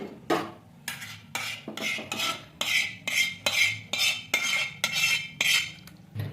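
A utensil scrapes and taps mashed Kathiyawadi tomato garlic chutney into a dish, about a dozen rhythmic metallic scraping strokes, close and loud with no talking.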